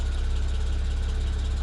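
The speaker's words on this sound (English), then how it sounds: "You guys can hear the rattle" A steady low BMW 135i N54 engine idle with a fast, even metallic rattle from the downpipes running through it, close and continuous, no voices.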